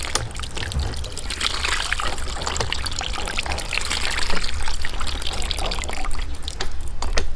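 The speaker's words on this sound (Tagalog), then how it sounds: "Hugasan natin to mabuti." Tap water running steadily over raw chicken breast being washed outdoors, a continuous splashing trickle with small irregular drips and handling noises, close and fairly loud.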